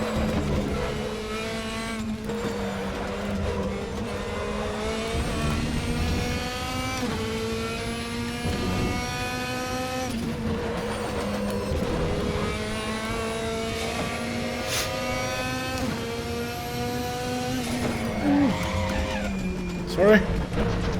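An Audi DTM race car in RaceRoom at the Hungaroring holds a loud, continuous engine whine that climbs and drops through gear changes, with tire squeal on corners and a voice speaking over it.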